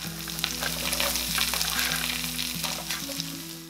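Carrots and onions frying in a hot pan with garlic, a steady close sizzle and crackle with stirring scrapes throughout, no voices.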